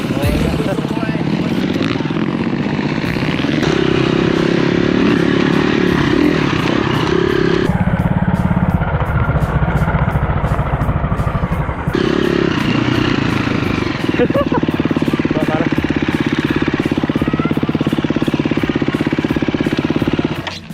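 Motorcycles ride off-road on a trip from Phnom Penh to Kampot, with a loud, steady engine drone running throughout and shifting slightly in pitch as they travel.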